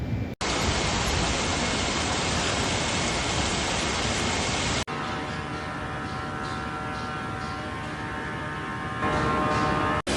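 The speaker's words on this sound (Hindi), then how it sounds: "ये जो DMF का गंदा पानी है वापस समंदर में जा रहा है।" Dirty DMF filter water at a seawater treatment plant drains back into the sea as a steady, loud rushing roar of water, unbroken and close, with no voices over it.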